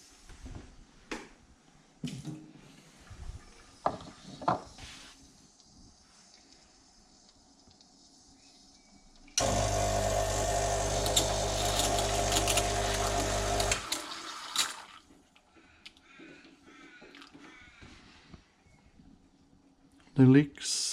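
A Rancilio Silvia espresso machine's pump running loud and steady for about five seconds mid-clip, with softer clicks and handling noises before and after and a voice talking in the quieter stretches.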